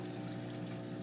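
Water gushes steadily into a DIY coil denitrator through a wide-open valve, a continuous, close rushing and pouring sound with a constant low hum underneath and no talking.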